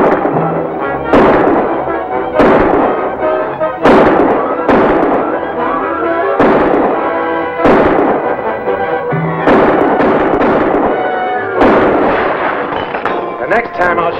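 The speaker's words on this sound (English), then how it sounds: "Now start firing." Gunfire crackles through a 1942 film scene, with loud, sharp shots landing every second or so in a steady irregular volley that echoes against a busy background.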